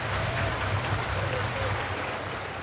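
Crowd at a baseball doubleheader applauding, a brief steady patter of clapping from the stands, with a commentator's voice over it.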